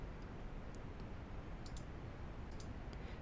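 Faint, scattered mouse clicks from editing a Google Forms quiz on a computer: three or four quick, light taps spread over a steady hiss of background noise.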